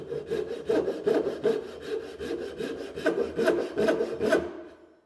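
A Gikoh Ryoba Japanese pull saw cuts through solid wood in a steady series of rhythmic rasping strokes, close and fairly loud, with no talking.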